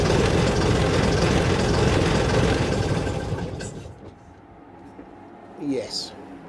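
An AEC Matador truck's diesel engine runs loud and steady, then is switched off, its rumble dying away into near quiet with a few faint knocks and a brief voice afterward.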